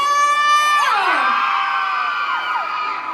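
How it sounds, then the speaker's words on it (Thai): Fans scream and cheer at a jeans store event in a shopping mall, a loud, high-pitched crowd roar of overlapping shrieks that swells and then trails off slowly. "ขอเสียงกรี๊ดดังๆให้กับนิยมยีนหน่อยเลย"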